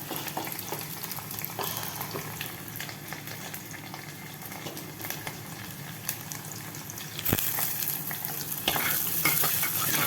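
Onions and garlic saute in a pan with a continuous close sizzle and crackle, broken by light stirring scrapes. It grows a little louder toward the end, with no voices.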